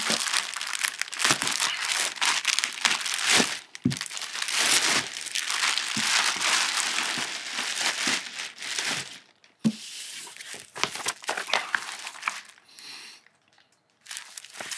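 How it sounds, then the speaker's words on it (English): Plastic wrapping is pulled and crumpled off a Sigenergy hybrid inverter, with loud, close crinkling and tearing in repeated bursts and a few brief pauses. "Let's get this plastic off."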